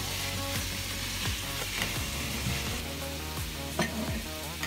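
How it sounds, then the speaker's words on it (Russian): Tuna sizzles and crackles steadily in a hot pan for pasta carbonara, with occasional clinks and scrapes of stirring, close and fairly loud. "Пока Симон жарит тунца"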